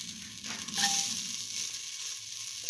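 Ginger sizzling in hot oil in a pan while cooking okra and split mung bean rice, a steady close frying hiss with a brief louder burst near the start.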